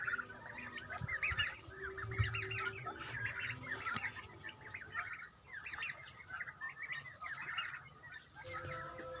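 A flock of chickens, roosters and hens, with the roosters said to weigh around nine kilograms, clucks and calls in a continuous busy chorus, fairly close, with no talking.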